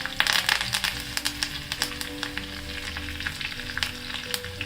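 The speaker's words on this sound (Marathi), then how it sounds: "हे छान मस्त गरम गरम फोडणी आहे ना" Mustard seeds, green chili and curry leaves sizzle in hot oil in a kadhai for a tempering, a close, continuous crackling fizz with sharp pops scattered through it.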